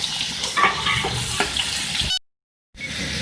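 Minced beef sizzling and crackling in a hot pan with stirring scrapes, a brief silent gap, then the frying resumes.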